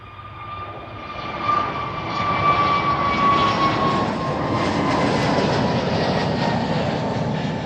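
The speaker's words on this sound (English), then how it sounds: "I'll have a look out on the A380 departure" An Airbus A380 airliner departs at Amsterdam Schiphol, its engines building into a loud, sustained roar that swells after the first second and stays strong and steady at a distance.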